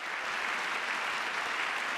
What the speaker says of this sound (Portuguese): Ele foi aplaudido em pé pelos republicanos